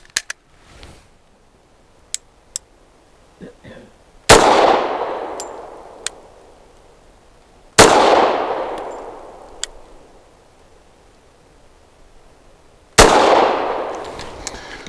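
A Taurus TH45 pistol fires SIG V-Crown 230 grain ammunition: three sharp, loud cracks spaced several seconds apart, each trailing into a ringing decay, with small faint clicks and handling noises in between.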